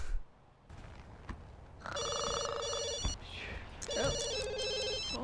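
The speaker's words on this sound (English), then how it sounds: "Oh, phone is calling again." An electronic phone ringtone from The Sims video game chirps in two repeated bursts of bright, warbling tones, moderately loud over a quiet game background with no talking.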